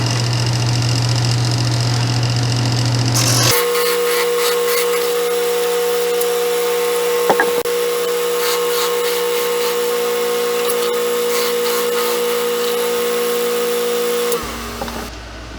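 A power tool runs loud and steady, squaring a pen blank for a painted pen, starting abruptly after a short low hum, holding a constant whine for about eleven seconds with one brief knock, then cutting off.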